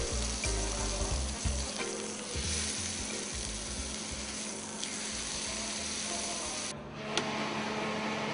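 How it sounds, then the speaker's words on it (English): Steady, loud sizzling of meat frying on high heat in a hot pan, crackling and hissing continuously without any voices. "the meat has to be fried shortly on high temperature"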